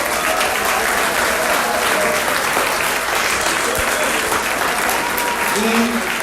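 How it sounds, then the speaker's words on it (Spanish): An audience applauds the speakers at the end of a panel presentation, with loud, dense, sustained clapping from a large crowd filling the room. "Un aplauso para los ponentes."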